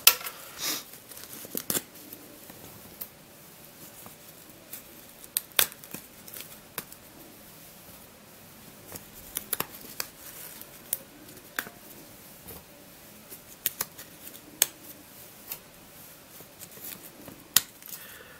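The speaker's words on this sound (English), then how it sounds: "So now I'll just pop these out of the piece of paper." Small paper cube tiles popped out of a sheet one after another, giving faint, scattered snapping clicks over a quiet background.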